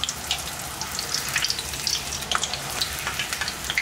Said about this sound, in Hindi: बस इसी तरह से हमें फ्राई कर लेनी है।